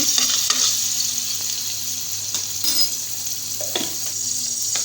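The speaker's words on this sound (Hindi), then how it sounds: "पैन में मैं यहाँ पे 2 स्पून ऑयल के डालूँगी, 1 चाय का चमचा लहसुन का डाल दिया मैंने" Chopped garlic sautéing in about two spoons of oil in a pan gives a steady, bright sizzle, close and continuous, broken by a few soft stirring scrapes, with no voices.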